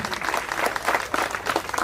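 Audience applause at a university career fair in Homa Bay, a steady patter of many hands clapping for the host, moderately loud and continuous with a faint voice or two beneath it.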